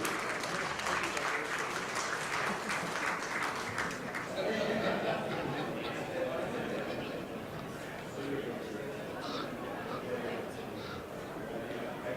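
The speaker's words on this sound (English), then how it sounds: "let's give all our partners and friends a big round of applause" An audience claps at the 2018 APPMC sponsor felicitation event. The applause is loud at first, then thins after a few seconds into scattered clapping mixed with voices and chatter.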